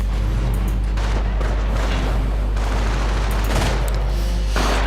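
Machine gun fire rattles from an MG team garrisoned in a building during a Company of Heroes battle, a dense continuous fusillade of shots with louder bursts near the middle and end, heard over a low battlefield rumble.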